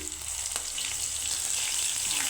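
Small fish frying in hot oil with a mustard spice paste sizzle steadily and close by, with a sharp crackle as the paste goes in, followed by a dense, even hiss.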